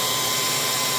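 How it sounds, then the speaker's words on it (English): A hair dryer on its cool, no-heat setting blows a steady, loud rush of air inside a Samsung refrigerator being dried out during an ice maker repair, running continuously and then cutting off abruptly. "now I'm gonna use the air dryer, but only on cool, no heat, just to blow air and get it all dried out"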